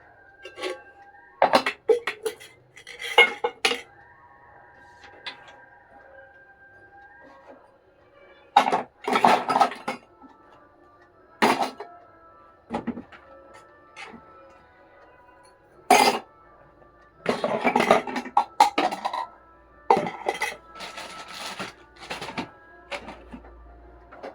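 Dishes, pots and metal utensils clink and clatter in scattered bursts of handling, separated by quiet gaps, with no voices.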